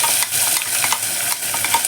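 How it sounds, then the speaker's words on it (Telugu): Ground coriander paste stirred into hot tempering oil for a coriander rasam, sizzling steadily with repeated scraping strokes of a spoon in the pan, close and fairly loud, no talk. "తాలింపు వేసుకున్న ఆయిల్లో ఈ పేస్ట్ వేసేస్తుంది నేను ఇప్పుడు మంచిగా కలుపుకున్నాను"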